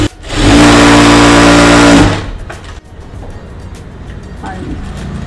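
A sewing machine stitches the hem of a baby frock, running loud and steady with a buzzing motor for about two seconds, then stopping and leaving quiet handling sounds.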